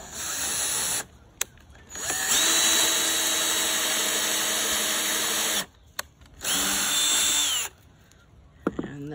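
A power drill bores pocket holes into a wood board through a Kreg jig. Two sustained whining runs with short quiet gaps between them sit close to the listener, with no talking.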